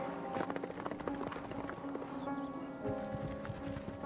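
Horse hooves on an arena surface during a senior squad vaulting competition at a European Championship, a steady clip-clop rhythm of a cantering horse with a busy crowd and arena ambience around it.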